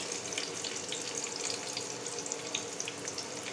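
Chopped onion frying in hot oil, a steady dense sizzle and crackle that carries on without a break throughout, close and fairly loud, with no one talking.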